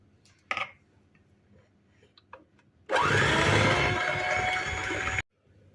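An electric mixer whips a packet of cream powder with a glass of milk in a bowl. A loud, steady whirring starts abruptly after a few small clinks, runs for about two seconds and then cuts off sharply.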